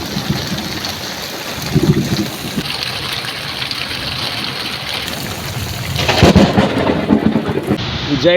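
A thunderstorm with heavy rain sweeps over an island in the Padma river, with rumbling thunder rolling under a steady rush of rain and a louder, closer burst of thunder and downpour near the end.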